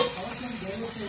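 Lauki sweet with mawa being stirred and fried in a pan, a soft steady sizzle with scraping stir strokes, close and fairly quiet, no talking.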